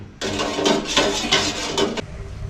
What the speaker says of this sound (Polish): Musimy mieszać, aż się zacznie gotować, żeby się nie zcięło